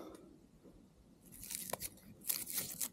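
Dry autumn beech leaves, still clinging to the tree in a beech forest, crunch in several short crisp bursts that start softly and grow louder and closer toward the end, with no talk.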